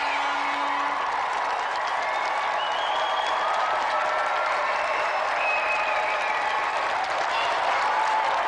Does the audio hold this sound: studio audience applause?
yes